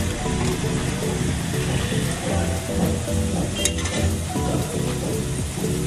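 Sesame gujia bubble and crackle in hot oil, a dense continuous sizzle close up with a few light stirring taps, and no talking.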